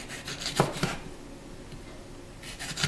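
A few soft knife strokes crunch through a habanero pepper against a cutting board, scattered with pauses, close by and fairly quiet.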